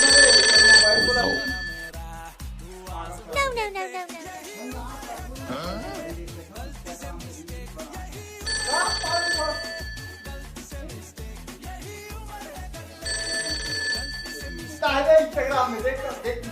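A mobile phone ringtone sounds in short, repeated bursts, returning three times beneath ongoing voices and background sound in a comedy skit.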